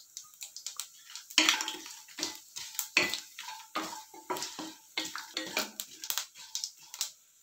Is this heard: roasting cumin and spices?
yes